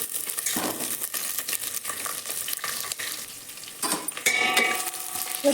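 Cumin seeds, curry leaves and onion fry in hot oil for a kannada horse gram sambar, a steady close sizzle broken by scraping stirs and a few louder bursts as ingredients hit the pan.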